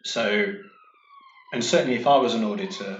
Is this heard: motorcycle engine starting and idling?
no